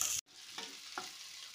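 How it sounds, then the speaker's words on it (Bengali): Potatoes and tomatoes with salt stirred in a pan, heard as a brief close scrape after a sudden cutoff, then two soft stirring strokes over a faint low sizzle. "নুনটা দিয়ে টমেটো আর আলুটা ভালো করে মিশিয়ে নিচ্ছি"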